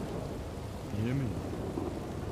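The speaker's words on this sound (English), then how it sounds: "Rain just started coming down." Steady rain in a video game hisses softly in the background, with a faint voice briefly audible over it.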